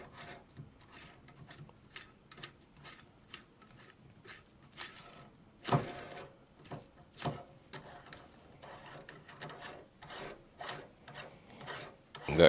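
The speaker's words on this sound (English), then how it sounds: "Unscrew this nut here." Metal nut being unscrewed from the underside of a new mixer tap, giving a series of short close scraping and rasping turns with small ticks, each brief and uneven, alone with no voices.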